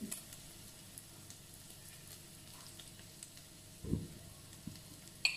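Beef stir-fries in a pan for fried rice, with a soft steady sizzle and occasional louder scrapes and clacks of a utensil stirring the meat.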